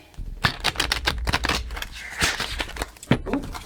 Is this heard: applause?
no